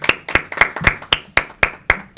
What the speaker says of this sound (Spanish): Bueno, un aplauso para Francisco.